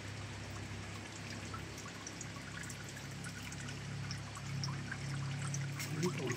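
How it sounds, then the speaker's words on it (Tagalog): Water from a natural spring trickles and pours steadily in a quiet outdoor setting among hanging rosaries, a soft continuous flow that grows slightly fuller toward the end, faint and close with no talking. "May bukal dito"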